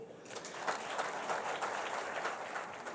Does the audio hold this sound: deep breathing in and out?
no